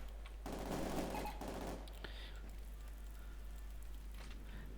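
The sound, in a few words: machine gun fire in Company of Heroes 2 video game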